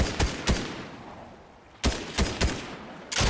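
Gunfire in Fortnite Reboot, loud single shots in a broken rhythm: two quick cracks, a pause, then three more bursts that each ring out briefly before the next.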